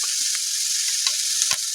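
Onion and garlic paste frying in oil in a pan for a red fish curry: a steady, loud hissing sizzle throughout, with a few soft stirring clicks near the end and no talk.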